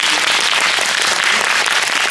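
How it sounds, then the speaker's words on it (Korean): Loud, dense audience applause at a Korean film screening and Q&A for Veteran 2, a continuous roar of clapping from a large crowd, close and sustained across the whole moment. "여러분 큰 박수 부탁드립니다."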